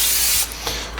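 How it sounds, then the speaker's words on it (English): A can of vegetable oil cooking spray hisses loudly in one long spritz into a warming pan, then cuts off and follows with a couple of shorter, fainter bursts. "We're gonna mixed with a little vegetable spray."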